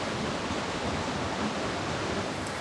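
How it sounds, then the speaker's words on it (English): Rainforest creek in the Gold Coast hinterland, near a cascade, rushing steadily with dense, even broadband water noise, loud and unbroken throughout with no voices. "welcome to this beautiful rainforest creek in the Gold Coast hinterland"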